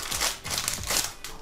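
Crinkling of a double plastic packaging bag being opened to reach a replacement phone battery, close and fairly quiet, with several bursts of crackle and rustle across the moment.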